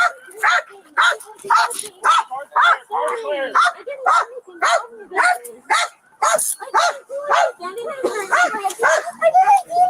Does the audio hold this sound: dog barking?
yes